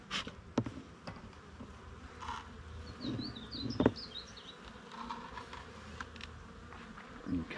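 Honeybees from a strong colony buzz steadily around an open hive during a queen-rearing check, a dense continuous drone with a few louder passes of bees flying close by.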